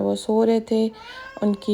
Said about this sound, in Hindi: पीछे से मेरी जो बिल्ली की आवाज़ आ रही है ये प्लीज़ आप लोग इग्नोर करें